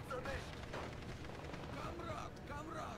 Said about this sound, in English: just gun them down